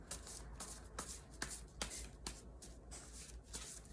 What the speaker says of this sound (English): then I'm gonna shuffle this